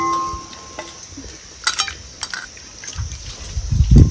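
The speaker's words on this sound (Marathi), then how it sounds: "गरम पाण्यामुळं सगळी घाण अशी निघून गेली तरी सुद्धा आपण परत एकदा गार पाण्याने धुवून घ्यायचं" Dried bombil fish are rinsed with cold water in a kitchen vessel, with light splashes and clinks of the dish, then a fuller, louder pour near the end.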